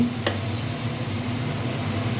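Steady low sizzle of fish and brinjal curry in a frying pan, with a brief scrape of stirring near the start; no voices.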